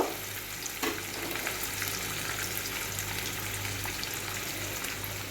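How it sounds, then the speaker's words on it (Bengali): Paneer cubes fry in hot oil in a pan, giving a steady, close, dense sizzle that carries on without a break and with no voices. "আমি একটু হালকা লাল লাল করে পনিরগুলো ভেজে নেব"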